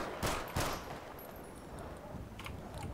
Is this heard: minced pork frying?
no